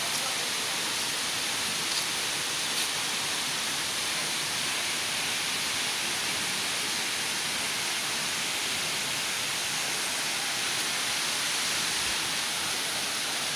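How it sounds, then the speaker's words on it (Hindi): The Moti Jharna waterfall at Maharajpur, Sahebganj flows in a steady, broad hiss of rushing water, loud and unbroken throughout with no voices. "तो देख सकते हैं ये रहा मोती झरना का नज़ारा"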